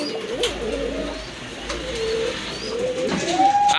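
Pigeons, a pair of quality birds offered for sale, coo in low repeated calls, fairly near, over a faint background murmur.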